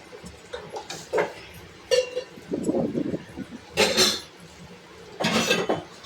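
A metal lid set onto a cooking pot of fish curry, with several distinct clanks and clattering knocks of cookware at close range, spaced by short pauses.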